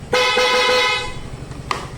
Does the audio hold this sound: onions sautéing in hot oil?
no